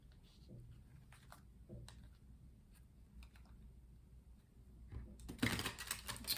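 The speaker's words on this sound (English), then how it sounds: "doing some shuffling so we can pull 4 tarot cards for the day" Tarot cards being shuffled by hand for a daily reading, a few soft, scattered card flicks and taps, quiet and close, ending in a short louder riffle near the end.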